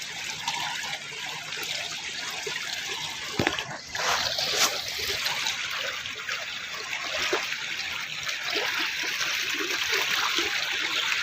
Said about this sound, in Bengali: দর্শক দেখেন পানি কিভাবে আসতেছে।